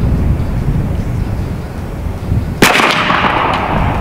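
An AEA Zeus .72 caliber big-bore airgun fires a single sharp, loud report partway through, after several seconds of steady background rumble, followed by a lingering noisy tail.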